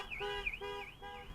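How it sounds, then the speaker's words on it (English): A car alarm wails nearby, its siren tone sweeping up and down in a repeating cycle about every 0.4 seconds. "as you heard, the alarms go off"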